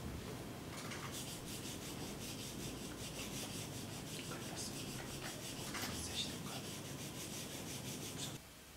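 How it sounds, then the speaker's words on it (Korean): Balsa part of a rubber-powered model airplane, coated with glue, rubbed up close in ASMR style, giving a steady dry scratchy rubbing that runs continuously for about eight seconds before stopping abruptly, with no talking. "이 접착제가 좀 발라져 있는 부분을 아, 그 요즘 유행한다는 그 ASMR 방식으로 한번 들려드리겠습니다"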